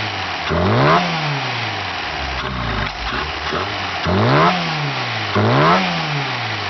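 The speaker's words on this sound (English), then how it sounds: "It's got a little hesitation because the choke's still on, the engine's obviously not warmed up yet" A Fiat 1800 with street cams runs cold with the choke on, its engine revving up and dropping back in repeated bursts with a slight hesitation, loud and close, with no one talking.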